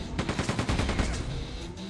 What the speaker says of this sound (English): Hop over to the machine gun now.